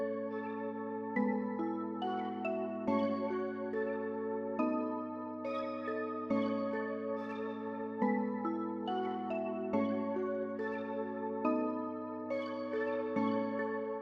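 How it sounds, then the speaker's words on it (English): A half-time flute melody plays as a catchy topline in a beat, bright sustained notes changing every couple of seconds over a steady low bass tone, quiet and without any voices. "Sometimes I'll half time the flute melody."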